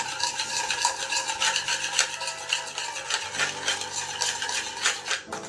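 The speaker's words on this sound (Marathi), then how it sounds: "त्यासाठी आपल्याला ही साखर सतत ढवळत राहायची आहे" Sugar stirred continuously in a pan for fresh coconut chikki gives a steady scraping, rubbing rasp of spoon against metal, close and moderately loud, with no voices.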